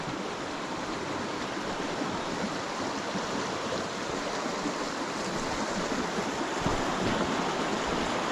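Hindhope Linn waterfall pours into its stream in a loud, continuous broadband rush of falling and flowing water, steady throughout with no voices.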